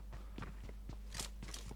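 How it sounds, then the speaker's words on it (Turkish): Footsteps in the PUBG Mobile video game, a quick series of soft crunchy steps in an even rhythm, fairly close and faint over low background hum. "Ayak sesi var ama acaba burada mı?"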